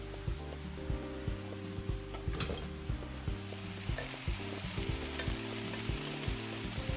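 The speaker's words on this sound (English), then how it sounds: "Now we're going to stir that up" Black beans with chili powder, salt and pepper sizzle in a hot pan as a spoon scrapes and stirs through them, a steady frying hiss with repeated close clinks and scrapes and no talking.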